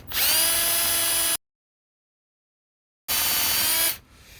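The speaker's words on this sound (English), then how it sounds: "when we drill, obviously we want to drill level and as straight as we can" Two loud bursts of a power drill whining at high speed into a wooden staircase handrail, separated by a pause of silence, the second burst shorter and cutting off abruptly.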